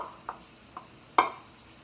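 Pre-cooked, chilled orzo is stirred into a dish, giving a few faint, separate scraping clinks of a utensil against the pan, the last one sharper and louder, over a quiet background.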